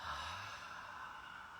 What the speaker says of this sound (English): breathe in through the nose, exhale out the mouth